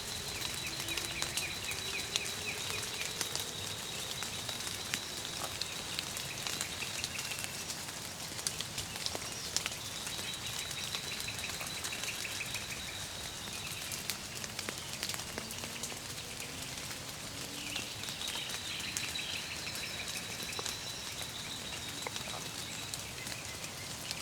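Steady rain falls outdoors during a turkey hunt in South Carolina, a continuous even hiss of drops on the ground and foliage for the whole stretch, with faint bird calls in the distance.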